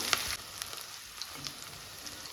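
Onions sautéing in a pan for a homemade dish, a steady soft sizzle with faint crackles and no voices.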